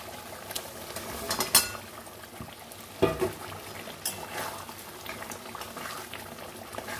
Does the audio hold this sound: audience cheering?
no